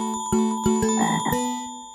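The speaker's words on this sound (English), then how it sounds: "It's a frog!" A frog croaks in a children's jungle song, several clear, close croaks in a quick rhythmic run set against a musical backing, fairly loud with no voices over them.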